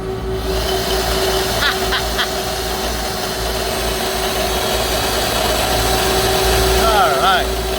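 A blower runs steadily to push glycol out of a York YVAA chiller, a continuous loud droning hum with a low tonal whine, joined by brief whistling squeals and a person talking.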